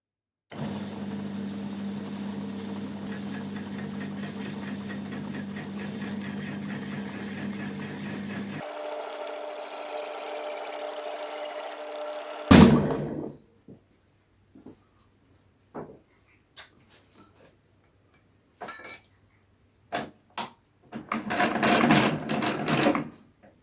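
A power tool with a blade in a chuck cutting a garden table umbrella protector, running as a steady close whine that shifts pitch partway and then stops, followed by scattered handling knocks and rustling.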